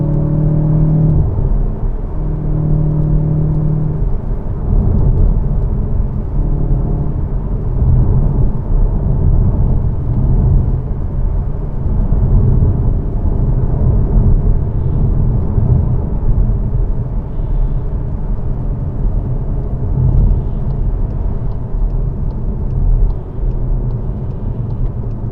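Cupra Formentor performance SUV driving on the road, a steady loud engine and road rumble throughout with a few low tonal hums early on, no voices.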